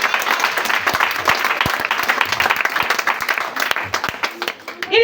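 A church congregation claps and cheers in praise, a dense, steady wash of applause with scattered voices calling out, loud and sustained throughout.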